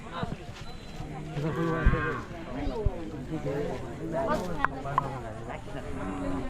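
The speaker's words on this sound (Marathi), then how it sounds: "दीड वर्षाचा पाडा आहे" A year-and-a-half-old Khillar bull lows a few times, fairly close, while people talk over it outdoors at a cattle show.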